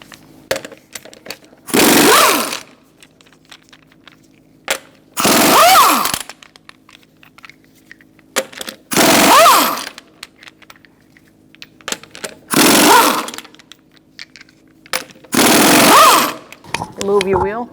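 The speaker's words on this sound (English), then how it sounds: "Using a 21mm socket, we're going to remove our lug nuts." A power tool with a 21mm socket removes the lug nuts from a front wheel of a 2005-2010 Chrysler 300, firing in five loud, separate bursts of about a second each with short pauses between.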